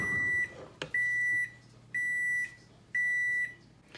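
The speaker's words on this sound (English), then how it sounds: "you heard the microwave go off" Four electronic beeps from a microwave, each a steady high tone lasting about half a second, evenly spaced a second apart, fairly close and clear.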